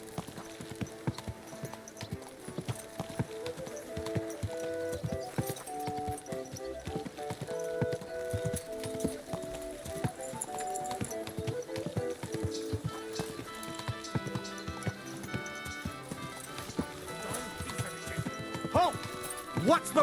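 Steady clip-clop of a horse's hooves trotting along in the video game Kingdom Come: Deliverance II, under a layered music score, with occasional voices mixed in.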